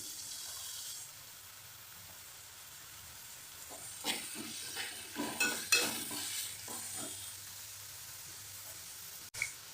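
In a bitter gourd curry, chopped tomato, turmeric and coriander powder hit the pan over fried onion and sizzle quietly, then several close spatula stirs and scrapes follow, with a sharp clack at the end.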